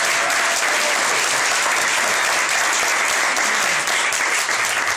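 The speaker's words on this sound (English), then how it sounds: "let's give the mayor a big round of applause" An audience at a bill-signing ceremony for a senior citizen property tax relief act applauds the mayor, a thick, even wash of clapping that holds at full strength throughout.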